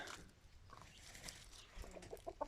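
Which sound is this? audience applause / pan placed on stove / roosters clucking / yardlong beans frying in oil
roosters clucking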